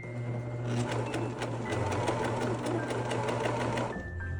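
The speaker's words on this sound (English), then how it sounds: "Because you're sewing a circle, it's a little bit more difficult on the serger to fit it in there." A serger whirs steadily while sewing fabric for dog boots, with a rapid rhythmic stitching pulse over a low motor hum that runs close and continuous for about four seconds before easing off.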